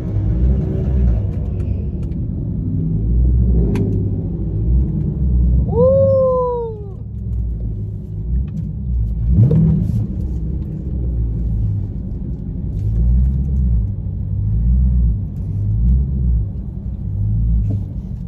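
A Dodge Charger Scat Pack in a street race gives a steady low engine rumble that swells and pulses throughout, with a brief higher whine midway, heard close from inside the car.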